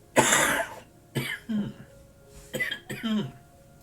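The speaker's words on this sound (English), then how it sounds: "Oh, sorry, another cough here." Several coughs and throat-clearing bursts break out close to the mic in uneven clusters, one long harsh cough followed by shorter hacking pairs with quiet gaps between.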